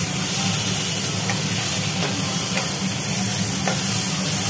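Fried potatoes go into a frying pan with chilli paste and are stirred, giving a loud, continuous sizzle with scraping stir strokes and a few sharp clicks, close by, with no one talking.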